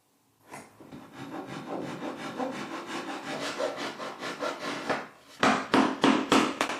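A hand saw cuts joints in white oak with a steady, close rasping stroke rhythm for several seconds, followed by a few sharper, louder strokes at the end, no talk.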